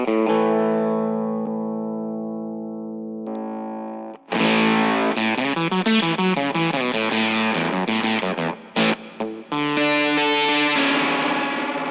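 Electric guitar played through an effects pedal, a held chord ringing out and then heavily processed, distorted notes and rapid shifting tones, loud and upfront.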